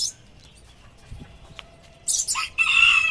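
Chickens at a farm cluck quietly, then a rooster nearby crows loudly in two bursts, over a calm outdoor background.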